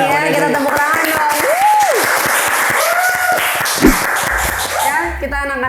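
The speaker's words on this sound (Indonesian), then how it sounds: "Kita tepuk tangan dong." A small audience at a casual talk show claps in a dense, steady patter with a few whoops. Lively voices and laughter run over it throughout.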